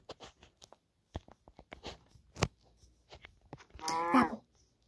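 Cows mooing in the video game Minecraft, with scattered short clicks and taps before one long, loud, nearby moo near the end, no talk.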